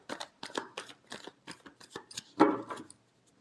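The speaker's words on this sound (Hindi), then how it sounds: "Last shuffle." Tarot cards are shuffled close by in quick, irregular riffles and flicks, a series of soft papery slaps with a slightly louder final shuffle, in a quiet room.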